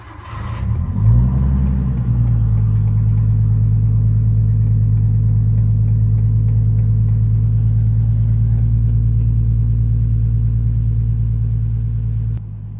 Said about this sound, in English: So let's start up the car first.